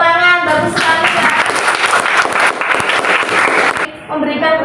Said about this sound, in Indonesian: Pendapat dari Meli, kita berikan tepuk tangan, bagus sekali ya